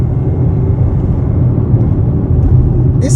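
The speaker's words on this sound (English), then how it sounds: "listen to this car move." A 2015 Hyundai Tucson drives in sport mode, heard from inside as a steady low engine and road rumble, constant and fairly loud, with no talking.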